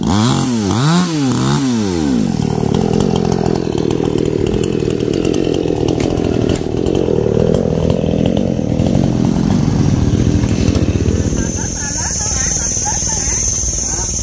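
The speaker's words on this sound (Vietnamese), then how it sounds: "Thì bà con toàn cưa cái cây xoài nè." A chainsaw roars up close, revving in quick rising-and-falling bursts before settling into a sustained, loud buzz as it bites through the wood of a mango tree.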